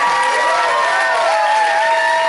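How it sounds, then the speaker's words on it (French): Crowd at a cosplay contest results ceremony applauding and cheering, with loud sustained shouts and whoops over clapping, continuous and close, voices rising and falling together. "applaudissez Maîtresse Rarity, applaudissez la finale"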